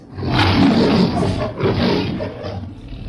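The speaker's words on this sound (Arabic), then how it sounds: "ده صوت اسد صح؟" A lion roars loudly and close, two long, rough bellowing roars with a short gap between them, heard on its own with no talk.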